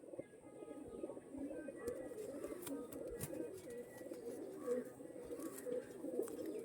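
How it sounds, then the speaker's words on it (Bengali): Pigeons of a white-headed flying breed coo softly and repeatedly in a low, throaty rhythm, several overlapping calls at close range with faint background noise. "এটাও মুন্ডি সাদা লাইনেরই পায়রা"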